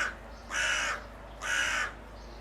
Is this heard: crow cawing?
yes